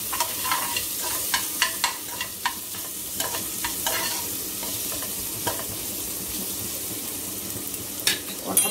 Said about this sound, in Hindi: लाल नहीं करना प्याज को, बस थोड़ा सा सोटे करना है बस।